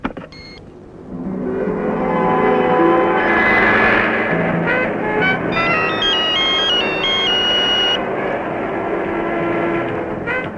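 A telephone in a hospital rings with a repeating electronic tone pattern in the middle of the stretch, set against a continuous, fairly loud background of sustained sound, with no one speaking.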